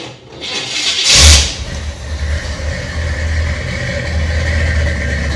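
An old car with a Rochester carburetor starts from cold as the starter drags briefly, then catches with a loud burst and settles into a steady, rumbling idle nearby.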